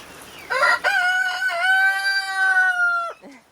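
A rooster crows once, loud and close, a long drawn-out cock-a-doodle-doo ending in a short cluck, with chickens and chicks about in a quiet farmyard setting.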